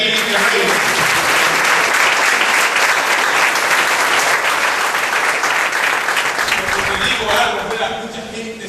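A church congregation claps loudly and steadily for several seconds, with crowd voices mixed in, before the applause fades near the end.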